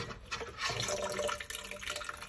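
Water drains from a Culligan water softener brine tank during its stage 2 cycle, a steady close hiss and trickle of flowing liquid with no talk.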